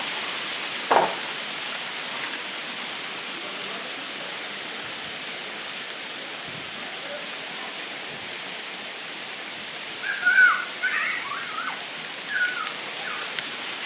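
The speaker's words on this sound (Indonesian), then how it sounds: "Hujan pasir, ya Allah. Hujan pasir." Volcanic sand and ash from a Mount Merapi eruption fall like rain, a continuous soft hiss that stays even throughout, with a brief thump early on and faint higher sounds later.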